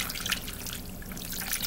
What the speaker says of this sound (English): then you want to add some water to this